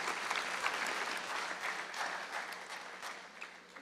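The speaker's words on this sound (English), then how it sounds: "You need to give yourself a round of applause" A large crowd at an electric cooperative's annual meeting claps steadily for several seconds, dense and sustained, with no speech over it.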